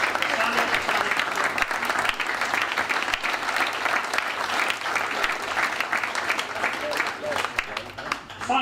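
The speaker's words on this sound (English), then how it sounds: "I want to give those two men here in the front row a big round of applause" A hall audience at a commemoration evening in a hotel applauds two men in the front row, with sustained, dense clapping lasting throughout and voices calling out over it.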